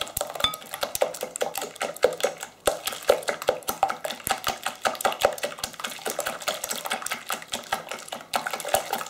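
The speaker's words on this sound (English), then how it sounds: "I'll just keep whisking as I go." A whisk beats a milky, creamy bread-and-butter-pudding mixture in a bowl, making rapid, close, rhythmic metallic clicks against the bowl with only a brief pause.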